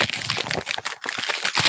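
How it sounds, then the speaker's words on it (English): Crinkly packaging crackles and rustles close up as a Guerlain Shalimar Philtre de Parfum perfume box is unwrapped, a dense run of crumpling and tearing sounds with no talking. "do the unwrapping thing."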